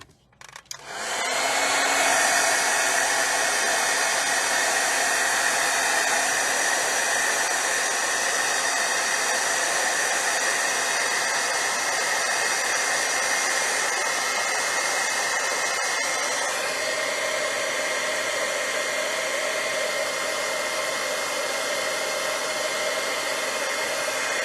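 Hair dryer switching on and blowing steadily over drying paint, a loud continuous whooshing roar that holds for over twenty seconds with a slight shift in tone partway through; no talking.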